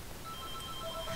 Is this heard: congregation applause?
no